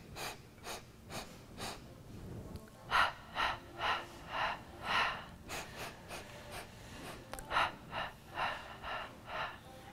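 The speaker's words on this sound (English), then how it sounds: "It's about filling the lungs. 5 breaths." Rhythmic breathing during the Pilates hundred exercise on a reformer, a series of short sharp breath pulses in steady groups, close and fairly quiet.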